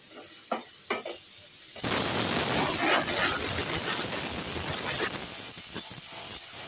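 Chopped onion hits a hot pan and bursts into loud, sustained sizzling that keeps going steadily, with a few small clinks just before the food goes in.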